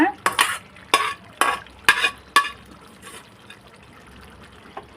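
Mutton gongura curry stirred in a pan: about six sharp scraping strokes of a spoon in quick succession over a faint simmer, then a quiet tail.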